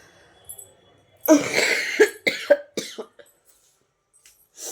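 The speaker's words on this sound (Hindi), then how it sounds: "जबरदस्त खांसी हो गई" A close, harsh coughing fit: a long rasping cough followed by several quick bursts, then quiet and one more short cough.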